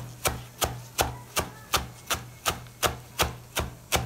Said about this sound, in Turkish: Aynı şekilde bir demet naneyi doğruyoruz.